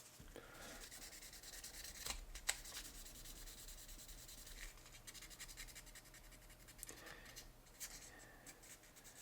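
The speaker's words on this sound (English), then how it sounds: "I'm going to do a little bit of sanding with some 2000." Soft, steady scratchy rubbing close by as 2000-grit sandpaper works a small cast model van, a fine abrasive hiss that continues with a few brief louder strokes and no voices.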